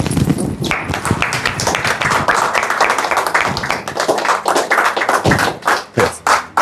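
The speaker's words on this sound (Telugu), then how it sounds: "అందరూ చప్పలు కొడదాం." A group claps hands together to honour a caretaker, dense and loud close-up applause that runs throughout and turns more uneven and scattered toward the end.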